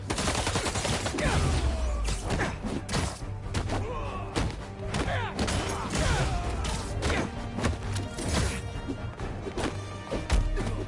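Heavy gunfire erupts during an armored truck robbery in the Spider-Man 2 video game, rapid bursts of shots mixed with thuds and crashes filling the whole stretch loudly and continuously.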